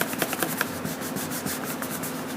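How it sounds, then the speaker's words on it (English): A bone folder rubs back and forth along a fold in paper card, making quick, close, rhythmic scraping strokes with no talk. "I'll take my bone folder, oops, and just kind of rub it in here"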